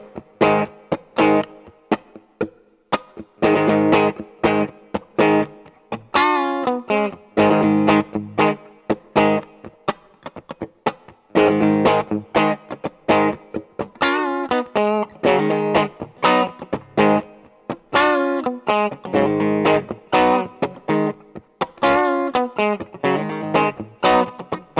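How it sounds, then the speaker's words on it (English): Electric guitar through an Orange CR60 amp with plate reverb rolled back slightly, playing a spanky, funky rhythm of choppy chords and muted strums, loud and continuous, without talk. "Now I have it on the plate setting with the reverb rolled back just a little bit for kind of a spanky,"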